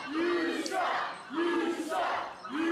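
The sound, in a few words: wrestling crowd chanting that the Ego Trip team sucks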